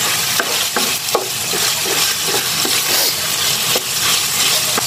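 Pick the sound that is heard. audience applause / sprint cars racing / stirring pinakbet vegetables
stirring pinakbet vegetables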